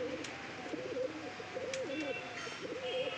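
A domestic pigeon, a male recovered from illness, coos in a steady rolling series of soft throaty calls, close and clear over a faint background hiss.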